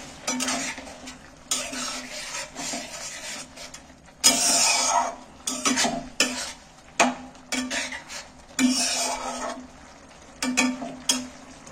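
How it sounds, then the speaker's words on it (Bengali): Boiled eggs are stirred into a spice mixture in a pan, a spoon scraping and clinking against the metal in irregular bursts over a faint sizzle, close and with no talking. "ডিমগুলো আমি দিয়ে দিচ্ছি এর মধ্যে তুলে, একটু নেড়ে দিয়ে এর মধ্যে।"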